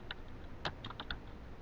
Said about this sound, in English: start typing with my keyboard